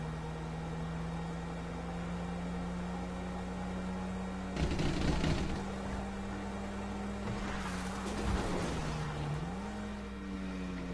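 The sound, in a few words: car engine driving uphill in video game Grand Theft Auto V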